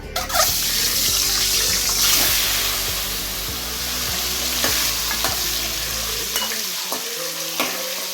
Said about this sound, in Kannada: ಮೊದಲಿಗೆ ಒಂದು 10 ಮೊಟ್ಟೆನ ಅದರಲ್ಲಿ ಎಣ್ಣೆಯಲ್ಲಿ ಫ್ರೈ ಮಾಡ್ಕೋಬೇಕು